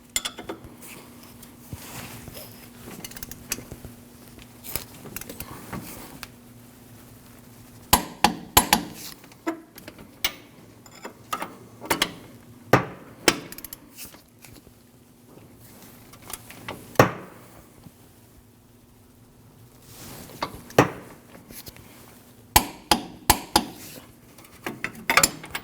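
Metal clanks and ratcheting clicks from a wrench torquing the two camber kit bolts to 129 foot-pounds on the front suspension of a 2003-2008 Subaru Forester, sharp irregular strikes and taps scattered through a quiet garage.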